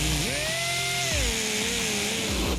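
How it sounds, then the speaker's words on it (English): A power tool cuts down the hood striker studs, heard as a loud, close motor whine that rises in pitch, holds, then dips and winds down under a constant background roar. "So what I did was I cut down the studs for the striker"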